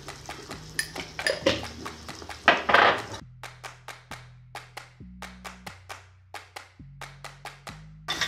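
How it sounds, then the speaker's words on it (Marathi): Tomatoes and salt being stirred in a pan, with sharp, regular metal taps and clinks of a spoon against the pan, plus a louder scraping burst early on, heard alone and close. "हे चांगलं हलवून घेते आता"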